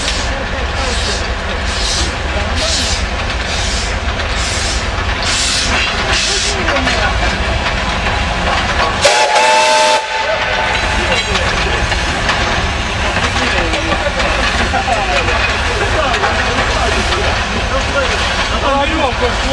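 Steam locomotive L-0022 hauling a memorial train in Belgorod in July 2013, with loud rhythmic chuffing early on over a constant roaring hiss of steam, and voices talking nearby.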